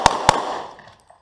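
Two sharp gunshots at an outdoor shooting range, fired in quick succession close by, each a loud crack trailing into a short echo, with no talking.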